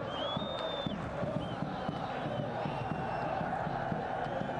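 Wydad football fans chanting together in the stands at a match in Algeria against USM Alger, a dense, rhythmic crowd roar that carries on unbroken throughout, with a thin whistle-like tone at the start.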